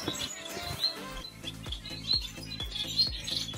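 Small birds in an aviary give short, high chirps in quick repeated bursts, heard close and fairly clear over a soft, rhythmic background thumping.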